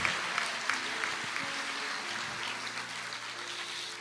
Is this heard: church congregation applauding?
yes